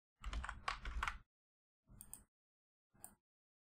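A computer keyboard is typed on at a PowerShell prompt in three short bursts of quick key clicks, the first longest and the last briefest, with quiet gaps between and no talking.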